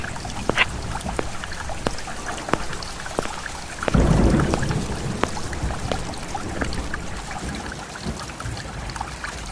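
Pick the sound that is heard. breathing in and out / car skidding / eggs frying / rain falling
rain falling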